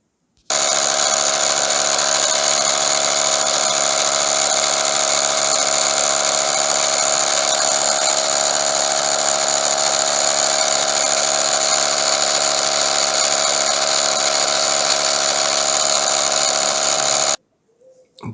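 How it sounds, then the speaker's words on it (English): A Dremel polishing disc spins against a toy aircraft with a steady high-pitched motor whine. It holds for about seventeen seconds and then cuts off abruptly, close and loud. "what I've tried now is my Dremel set polishing disc"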